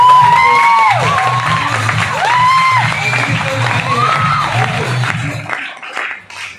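A seminar audience in Bilaspur, Chhattisgarh claps and cheers loudly, a dense wash of applause mixed with shouts and calls that swells in waves before fading out near the end.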